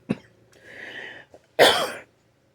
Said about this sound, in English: I still do cough occasionally